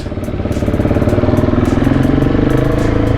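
A Husqvarna 701 Supermoto single-cylinder motorcycle pulls uphill close by, its engine thumping in a fast, even pulse that builds slightly, with a light mechanical clatter on top.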